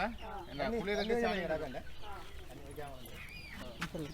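Chickens and chicks given as livelihood aid in a rural yard near Jaffna and Mullaitivu cluck and cheep close by, a busy burst of calls early that thins into softer chatter with a sharp peep near the end.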